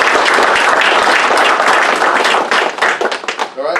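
Applause for a departing police officer at a Pequannock Township council meeting, dense steady clapping from a room of people that thins out toward the end.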